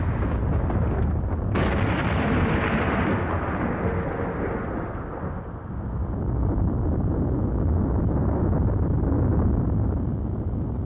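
A deep, continuous roar of a massive volcanic eruption with a sharp crack near the start, rumbling on loudly and steadily without pause.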